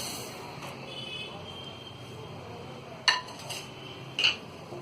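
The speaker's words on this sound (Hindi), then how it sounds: "एक कढ़ाई में हम ये 1 चम्मच घी डालेंगे और इसमें अब हम ये चीनी डाल देंगे" A metal spoon scrapes and clinks twice against a kadhai as sugar goes into ghee and is stirred, two short bright knocks over a quiet, steady background hiss.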